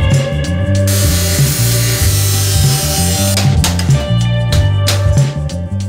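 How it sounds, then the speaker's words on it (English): Rusted sheet metal being cut out of a 1967 VW Squareback body with a power tool, a loud, continuous grinding whine with a pitch that wavers and stutters as the blade bites into the panel. "The next thing we're gonna do is we're gonna cut away the bad metal."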